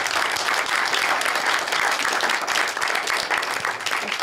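An audience at a DJ talk at the Red Bull Music Academy applauds, a dense, steady wash of clapping that holds for several seconds without talk.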